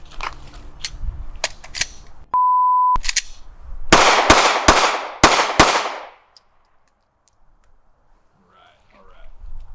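Five pistol shots in a three-to-body, two-to-head drill ring out loudly after a short start beep, the last shots spaced in a quick rhythm, with brief talk beforehand.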